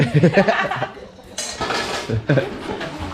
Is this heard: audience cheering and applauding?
no